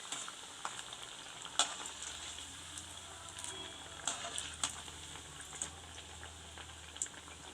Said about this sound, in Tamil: இதேமாரி எல்லா வடையும் பொரிச்சிக்கலாம்